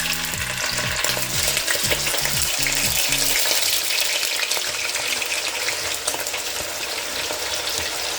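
Onions frying in a pan for a lamb kidney recipe, a steady close sizzle running the whole time, with low rhythmic thumps and knocks of stirring near the start and no talk.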